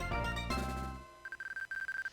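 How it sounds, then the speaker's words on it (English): A mobile phone rings with a repeated short, high electronic tone pulsing in a steady rhythm, faint, coming in after a fading game sound. "And then my phone goes off"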